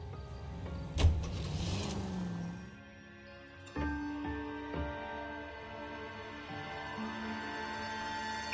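Car driven in the L.A. Noire video game: a steady engine and road hum runs throughout, with a brief thump near the start and a soft mechanical whir later, no voices.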